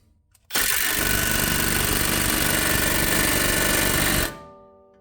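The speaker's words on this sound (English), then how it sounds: "what I'm doing here is I have this running like I'm tightening, spinning to the right" A 3/8 impact wrench spinning a control arm stud on a 2011-2019 Ford Explorer runs in one loud, steady, buzzing burst of about four seconds, starting abruptly and winding down at the end.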